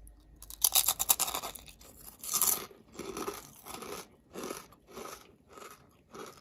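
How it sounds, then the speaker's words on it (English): Crisp crunching from chewing a brittle fish skin snack, a series of loud bites followed by steady rhythmic chews, close to the mouth with no talking. "Super crunchy. Yeah. You guys can listen."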